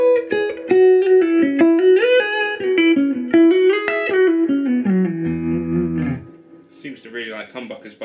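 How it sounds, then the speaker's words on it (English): Electric guitar with humbucker pickups played through a Fender Princeton Reverb amp with the reverb at 4, a clean melodic line of sustained notes with a lively reverb tail, then a low held note and brief higher plucks. "the reverb I've got set to 4 at the moment, so that's quite a lively kind of reverb."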